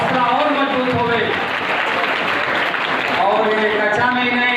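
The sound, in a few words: applause for students at a school results ceremony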